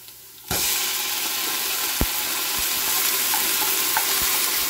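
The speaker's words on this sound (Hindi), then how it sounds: "अब इसमें डाल देते हैं जी अदरक लहसुन" Ginger and garlic hit a frying pan of browned onions, setting off a sudden loud, steady sizzle and crackle with occasional stirring clinks, close up and without talking.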